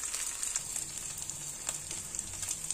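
A fried egg sizzles in a pan with a quiet, steady crackle and scattered tiny pops throughout, with no talking.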